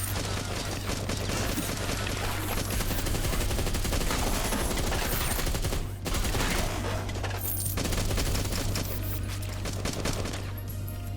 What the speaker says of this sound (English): Oh, that's a good shotgun sound.